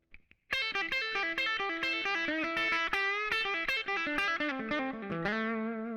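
A distorted electric guitar plays a run of quick, low-pitched pentatonic licks, loud and steady, with no talking.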